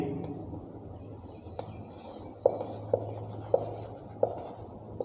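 Pen or marker strokes as a physics solution is written out, soft continuous scratching over a low room hum with several sharp taps of the tip at regular intervals.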